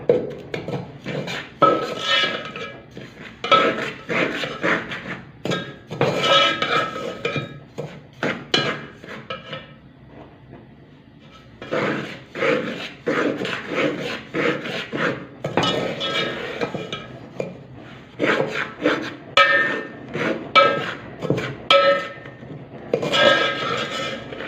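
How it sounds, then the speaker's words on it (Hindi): A spoon stirs and clinks inside a cooking pot set on a low flame, with repeated metallic scrapes and taps in irregular bursts, close by. A short quieter gap falls midway, and no one speaks. "चम्मच इसमें आप हिलाते रहेंगे"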